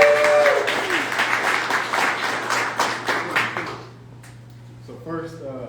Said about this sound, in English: Guys, let's give a big round of applause for Charles Kelly